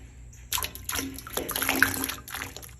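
Water is poured into a barrel of corn to make pig slop, a splashing, sloshing pour that starts abruptly and runs for a couple of seconds at moderate volume.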